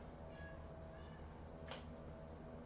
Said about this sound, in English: Is there a kitty cat who wants to come see us?